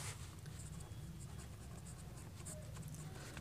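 A pen writes on paper while working a class 10 maths problem, a steady close scratching with faint strokes under a soft background hum.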